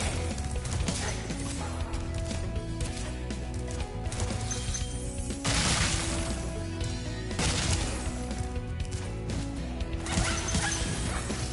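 Small dogs in Spyro Reignited yip and bark repeatedly over steady game music and ambient sound, their barks moderately loud and spaced through the scene.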